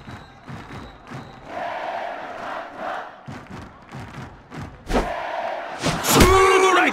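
Game stadium ambience from Netmarble Pro Baseball 2022: a packed baseball crowd roaring and chanting, rising in waves, with a crisp hit and louder cheering in the final seconds.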